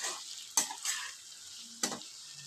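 Chopped ginger being stirred and fried in hot oil for a rohu fish curry with ridge gourd and potato, a steady sizzle broken by a few sharp scraping stirs of the spatula in the pan.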